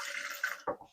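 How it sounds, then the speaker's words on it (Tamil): Water splashes and pours briefly in two short gushes, close and moderately loud, with a steady running-water hiss before them, as about a quarter cup of water is added to a pot for modak dough. "கொஞ்சம் எக்ஸ்ட்ராவா ஒரு 1/4 கப்பு நான் தண்ணி எக்ஸ்ட்ரா சேர்த்துக்கிறேன்"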